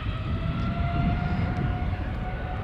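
A KLM airliner in 100-year anniversary livery departs Amsterdam Schiphol Airport, its steady engine roar and high whine sustained at moderate distance without talk.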